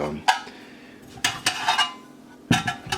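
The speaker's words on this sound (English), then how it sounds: "And here's the smaller pot." Metal Dutch military mess kit pot handled up close, giving several sharp clanks and clinks in short bursts separated by quiet gaps, with no talking.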